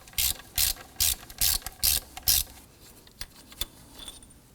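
A ratchet with a 10mm socket and extension loosens bolts on a 2003-2014 Volvo XC90 during a serpentine belt tensioner job, clicking in six even bursts close up, followed by a few scattered metallic clinks.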